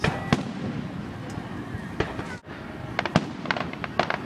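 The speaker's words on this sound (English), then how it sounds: "All the other fireworks shows in the area have gotten started" Distant fireworks on the Fourth of July pop and crackle in scattered sharp bursts, some faint and some louder, over a steady outdoor background hum.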